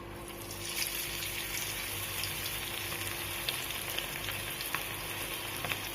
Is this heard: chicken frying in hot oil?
yes